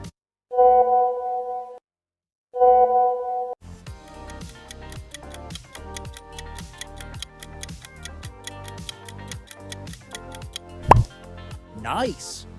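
WhatsApp logo sound: a short two-part chime of bright tonal notes with a pause between them, followed by a busy, rhythmic musical passage of clicking, ticking beats under quiz narration.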